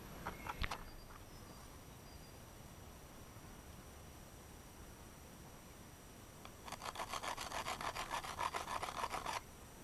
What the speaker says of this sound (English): It's described as almost like sawing the teeth into the edge of these points.